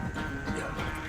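Horse galloping in the video game Red Dead Redemption 2, a quick rhythmic patter of hoofbeats over a dense game soundscape, very brief.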